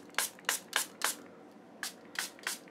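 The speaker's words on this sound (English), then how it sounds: "I spray my brushes too," A handheld spray bottle mists acrylic paint brushes with seven quick, close spritzes of hiss, four in a fast run, a short pause, then three more, with no talking.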